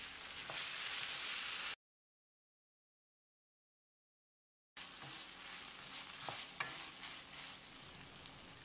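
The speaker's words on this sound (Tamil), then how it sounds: "நம்ம ஏற்கனவே வதக்கி வச்சிருந்த வெண்டைக்காயை போட்டு 1 நிமிஷம் பிரட்டி விட்டுடலாம்" Okra stirred into tomatoes frying in a pan for a tamarind okra curry, a steady close sizzle with scraping stir strokes, broken by a stretch of silence before the frying and stirring resume.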